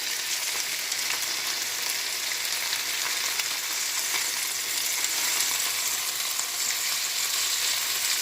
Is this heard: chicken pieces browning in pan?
yes